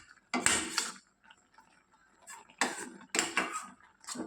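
A spoon stirs gongura leaves and green chillies in a cooking pot, giving two separate bursts of clattering scrapes against the metal, with quiet gaps in between.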